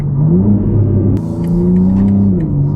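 A BMW G80 M3 engine revs hard and close, its low growl climbing in pitch as it accelerates, with a brief gear shift partway through.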